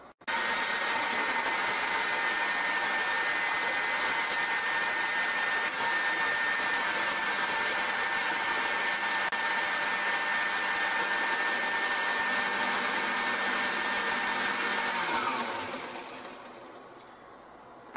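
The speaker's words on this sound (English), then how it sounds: "I'm going to put this in the food processor and try to make it easier on myself." Food processor chopping cheese in a home kitchen, a steady whirring motor drone running about fifteen seconds, then winding down and stopping.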